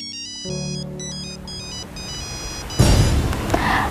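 A phone ringtone plays a repeating electronic melody close up and clear, followed by a louder burst of noisy sound near the end.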